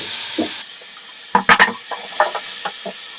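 Bottle gourd with tomato is sautéed in a pan: a few sharp scraping and clattering stirs punctuate a soft background hiss, close and fairly loud, without any speech.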